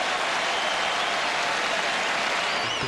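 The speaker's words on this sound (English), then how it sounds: "A big burst of applause." A tennis crowd at a 2012 Sharapova–Errani match breaks into sustained applause, a dense, steady wash of clapping that holds at an even level for the whole stretch with no voices standing out.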